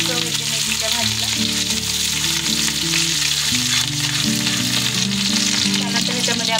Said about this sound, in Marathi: इथे आपण भरपूर सारी मिरची घेतलेली आहे हिरवी कापून, तेही टाकायचं आहे